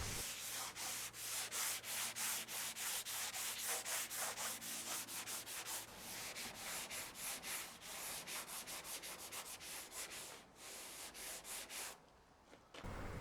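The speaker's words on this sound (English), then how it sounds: "After 2 undercoats I decided to sand it" Undercoat paint being sanded on the bodywork of an AC 2 Litre car under restoration: a steady run of close, rhythmic abrasive rubbing strokes with no voices, easing off briefly near the end.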